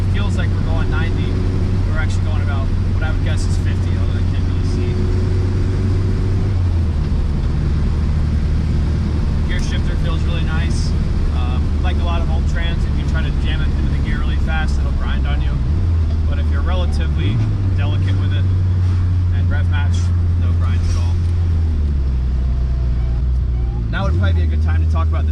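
A 1969 BMW 2002 drives along a road, its engine droning steadily with shifts in pitch as it changes gear, heard loud from inside the car while a person talks over it.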